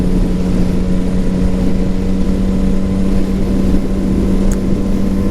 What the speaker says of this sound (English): Recorded in Queensland on the motorbike.